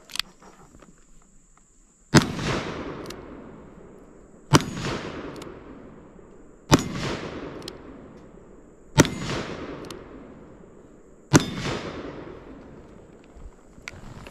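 Black powder pistol shots at a shooting stage: five sharp, loud reports spaced about two seconds apart, each followed by a brief ringing decay, with no talking.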